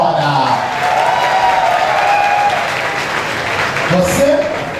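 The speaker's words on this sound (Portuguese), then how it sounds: "quem concorda comigo vai aplaudir agora" Audience applause fills a nightclub during a drag comedy show at Blue Space, a steady wash of clapping that runs the whole time while an amplified voice talks over it.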